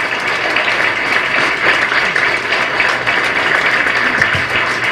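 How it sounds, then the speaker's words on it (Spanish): Congregation applauding at a Pentecostal church service, a steady wash of clapping held for the full stretch with low murmuring beneath. "Démosle un aplauso a Jesucristo el Señor."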